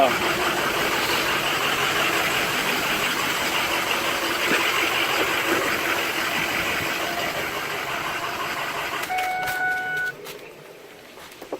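A 6.0 Powerstroke diesel engine that is putting out excessive smoke runs at a steady idle, a close and continuous rumble that cuts off near the end, with a few faint clicks after it stops.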